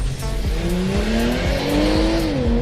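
Mazda CX-90 SUV accelerating hard off the line in a drag race, a loud engine note climbing steadily through repeated gear changes, with a brief tire squeal at the launch and no talking.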